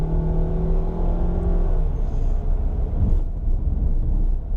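A 2019 Honda Fit EX with CVT driving, steady engine and road drone with a faint whine, close and continuous throughout.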